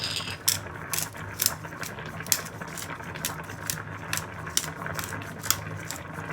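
Pepper mill grinding pepper over tomato spaghetti in a home kitchen, a close, rapid series of dry ratcheting crunches repeating in irregular bursts throughout.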